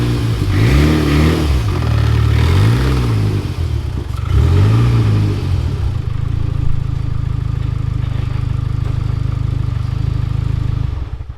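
A car engine revs up repeatedly in close, loud surges as the car climbs onto ramps, then settles into a steady idle before cutting off at the end.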